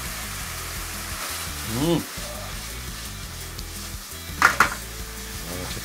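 Steady sizzling of salted minced meat frying in a pan with sesame oil and garlic, with a spatula scraping and tapping now and then and brief murmured voice.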